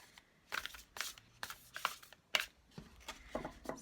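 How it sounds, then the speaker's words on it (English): A hard-to-handle tarot card deck being shuffled by hand, producing a series of crisp riffling bursts at an uneven rhythm, close and fairly quiet, with no talking. "It's a very hard deck for me to shuffle."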